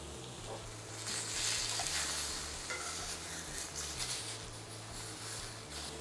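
Steaks searing in cast iron, carbon steel and stainless steel pans: a steady, fairly quiet sizzle with crackling bursts and occasional scraping as the meat is turned, close up with no speech.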